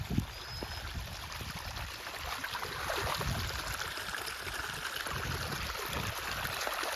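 Water from a flooded farm field after unseasonal rain drains through a broken earthen bund into a channel, a steady broad rushing gurgle that swells slightly midway, continuous and fairly faint, with no voices.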